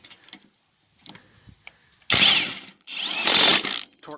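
Kobalt 24V 1/2-inch impact driver running in two loud, close bursts of roughly half a second each, briefly seating fasteners, with quieter handling clicks in between.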